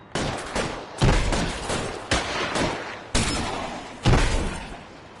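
Rapid bursts of gunfire from a shootout with police in the video game L.A. Noire, five loud volleys in a steady rhythm, each cracking sharply and then fading before the next.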